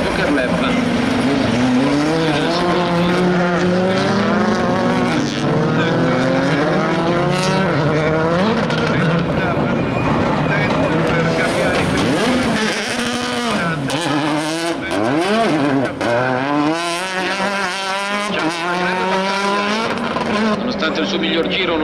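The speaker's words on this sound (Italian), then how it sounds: "intanto Lavandero sta spingendo tantissimo Gabbiani, adesso cerca, attenzione, forse di risuperarlo" Rallycross race cars at an Italian Rallycross Championship RX5 final, loud engines revving and whining through gear changes as the cars race past, with an Italian commentator talking over them throughout.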